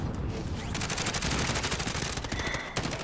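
Rapid automatic gunfire rattles in Call of Duty: Warzone, close and loud, in a dense continuous burst that runs the full length with a slight pause near the end.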